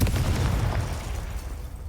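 A Confringo blasting spell going off in Hogwarts Legacy, a loud, close booming explosion with a rumbling low body that slowly fades over a couple of seconds.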